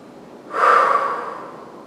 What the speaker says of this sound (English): breathing, inhaling and exhaling as we go